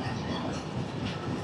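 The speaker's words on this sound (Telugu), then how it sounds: "భువనేశ్వర్ స్టేషన్ నుంచి అయితే తపస్విని ఎక్స్ప్రెస్ అయితే బయటకు వచ్చింది" The Tapaswini Express rolls out of Bhubaneswar station with a dense, continuous rumble and rail clatter close by. The sound stays steady and fairly loud for the whole short stretch, with no voices over it.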